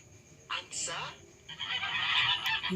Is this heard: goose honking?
yes